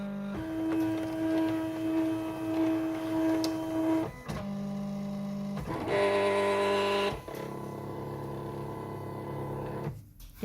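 A Silhouette Cameo 3 cutting machine working a PixScan mat whirs and hums with steady motor tones, shifting pitch in distinct stretches as the carriage moves, loud and close with no voices, ending in a brief pause.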